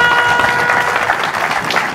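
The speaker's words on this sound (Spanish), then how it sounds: "fuerte el aplauso" Applause from the audience at an anniversary celebration of the Bolivian community in Escobar, a dense, steady clatter of many hands lasting throughout, with music or tonal sound beneath it.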